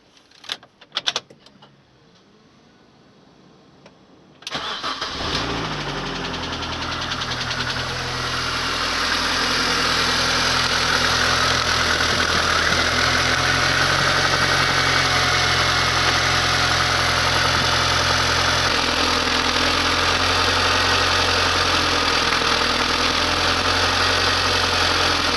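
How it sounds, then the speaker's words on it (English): Mini car engine cranks and fires up after a short quiet stretch, then settles into a steady, even idle that runs on without a break. "Next, start the car."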